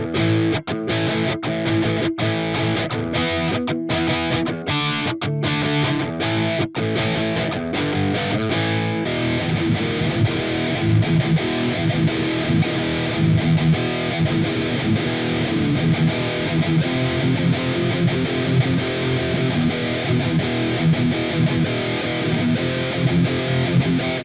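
Heavily distorted electric guitar played through the RedCurrant amp simulator plugin, with choppy gated chords at first and then sustained, saturated riffing that stays loud and dense to the end.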